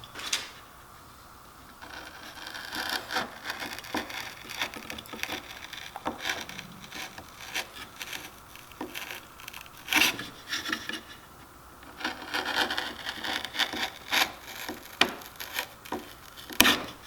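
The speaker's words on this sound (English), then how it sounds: "took a knife and scored a line to sever those fibers" A knife scores a line across wood fibers during carving of an osprey, giving repeated close scraping and rasping strokes with short pauses between bursts, and no talking.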